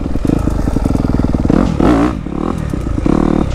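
A Can-Am 1000R four-wheeler engine revs hard and close while doing donuts, its throaty pulsing drone rising and falling through repeated throttle bursts with clatter underneath.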